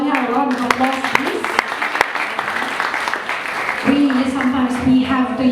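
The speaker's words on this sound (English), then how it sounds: "Can we give Sir Ordonia a round of applause, please" Audience applause during a talk on police and the war on drugs in the Davao Region, continuous clapping throughout with a speaking voice over it.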